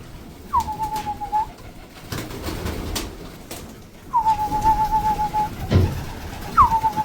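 Pigeons call twice with a rising then steady whistled note, fairly close, over a soft outdoor background with a few faint knocks.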